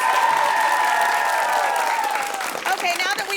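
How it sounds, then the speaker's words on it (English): An audience at a school quiz competition applauds both teams in a loud, continuous burst of clapping and crowd noise, with a sustained musical tone over it and voices starting up near the end. "Big round of applause for both schools."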